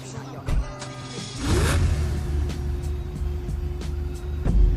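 A Lamborghini starting up in the video game GTA 5: a brief mechanical click, then the engine catches with a rising whoosh and settles into a loud, steady low idle rumble, with a faint voice early on.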